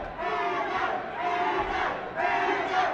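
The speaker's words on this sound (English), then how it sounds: "this crowd chanting Hanna. Crowd's going crazy for Hanna" A packed crowd at a Dayton MMA event chants fighter Rob Hanna's name in loud, rhythmic unison, rising and falling in waves that fill the arena with no single voice standing out.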